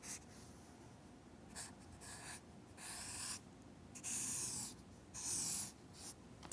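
Pencil strokes scratch across paper while a human face is drawn, quiet, close scraping that comes in short separate bursts and a few longer sweeps, with no talk.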